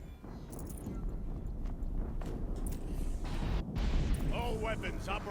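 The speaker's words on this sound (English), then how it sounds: "Another explosion." Rumbling blasts and crackling debris from an explosion in the action game Horizon Zero Dawn, a sustained heavy roar swelling near the end with game sounds layered over it.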